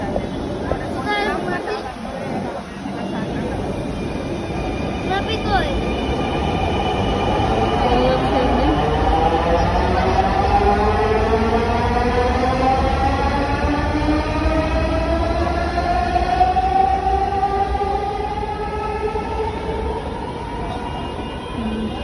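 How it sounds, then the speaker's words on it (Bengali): A metro train passes through Sheorapara station, a loud sustained rumble with rising and falling whining motor tones and wheel squeal that builds and holds for many seconds. "ট্রেন চলে গেছে।"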